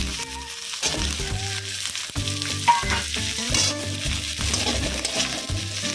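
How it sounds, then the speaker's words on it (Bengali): Green chili, onion and capsicum sizzle loudly in a hot pan for chili chicken, with steady frying hiss and repeated scraping stirs throughout, close and continuous. "এটা খুব বেশি ভাজবো না, 2 মিনিট নাড়াচাড়া করে নেব।"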